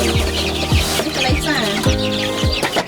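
Chickens clucking on a small farm, a series of about six low, repeated clucks in a loose rhythm, close and clear, with faint chirps and other farmyard sounds in the background.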